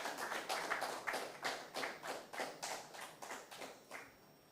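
Clapping for quiz contestants: roughly a dozen distinct, evenly spaced claps in a quick rhythm, fairly faint and close, from a small group with no talk over them.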